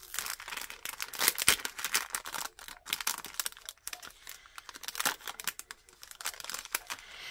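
A plastic bag of stickers held inside a second bag gets opened nearby with continuous crinkling and tearing, rustling in dense bursts with no talk.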